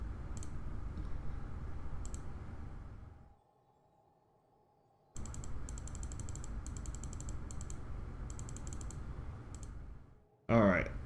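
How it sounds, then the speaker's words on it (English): Rapid clicking of computer mouse buttons and keys during online play, dense steady clatter that stops for a couple of seconds and then resumes, with a short burst of talk at the end. "You guys get to hear me clicking away though."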